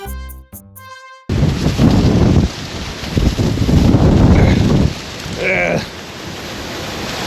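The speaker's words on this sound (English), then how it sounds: "The wind. Oh, geez. It's picking up." Strong wind picking up outdoors in a park, loud roaring gusts buffeting the microphone in waves after a brief tonal sound at the start, with a short faint voice partway through.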